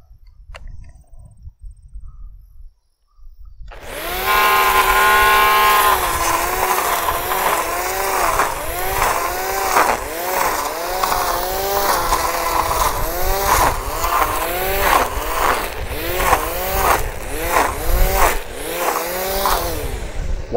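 A gas weed whip string trimmer spun with MIG welder wire as its cutting line starts after a short quiet moment and then runs loud and steady, its engine pitch rising and falling repeatedly as it revs through growth.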